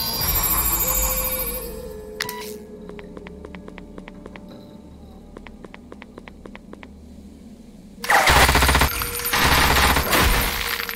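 Automated turrets firing in the Shadowrun Chronicles: Boston Lockdown video game, a fast run of sharp evenly spaced shots over a steady game background, ending in a loud burst of dense noise.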